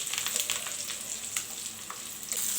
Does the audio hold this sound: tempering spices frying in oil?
yes